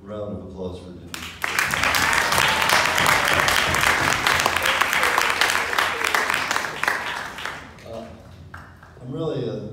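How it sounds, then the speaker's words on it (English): A room of birthday party guests bursts into loud, sustained applause for about six seconds, then it tapers off as voices return around it. "another round of applause for Denise"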